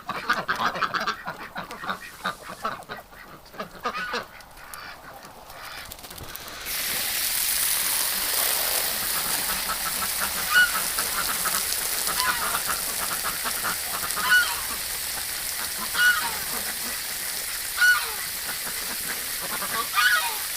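A duck quacks in a winter setting with faint intermittent calls, followed by a steady hiss of running water with soft repeated quacks over it.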